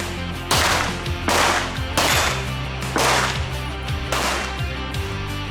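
Five sharp gunshots ring out at a falling plate shooting competition, evenly spaced about a second apart, each a loud close crack followed by a short reverberating tail, with no talk.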